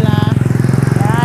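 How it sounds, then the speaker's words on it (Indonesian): A motorcycle passing by on a roadside, a loud steady engine putter with rapid regular pulses, close and dominant, with voices faintly underneath. "Motor lewat terus ya karena di pinggir jalan"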